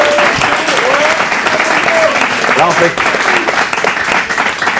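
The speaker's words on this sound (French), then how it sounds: "ils applaudissent, ils sont contents" A studio audience at a French television show applauds a guest, loud continuous clapping throughout, with a voice speaking briefly over it.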